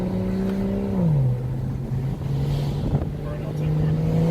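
A car engine blips its revs to match a downshift, the steady drone sliding down and then settling into a lower hum, loud and close, with low voices partly underneath.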